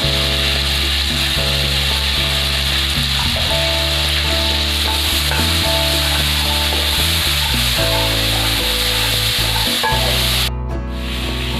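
Spices fry in a pan for a Bengali squash and potato curry, giving a loud, steady, close sizzle throughout, with scraping stirring strokes mixed in and no talking.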